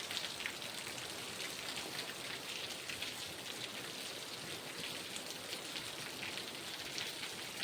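Steady rain falls continuously, a dense patter of drops hitting surfaces close by, with no voices.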